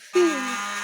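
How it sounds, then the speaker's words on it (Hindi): An electric kitchen grinder blending ginger, tomatoes and green chilies switches on abruptly and then whirs with a steady, loud, close motor drone for the rest of the moment. "अब ये मैं अदरक और टमाटर, ग्रीन मिर्चें, ये सारी चीज़ें ग्राइंड कर रही हूँ।"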